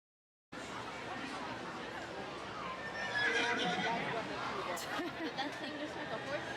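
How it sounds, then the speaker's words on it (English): A horse whinny sound effect on a Disneyland ride rings out loudly over a busy background of crowd chatter and ride noise, the neigh rising out of the general din. "That thing just like a horse sound?"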